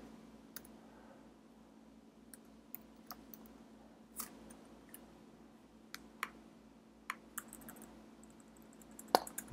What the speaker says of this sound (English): And then you can just type happy birthday.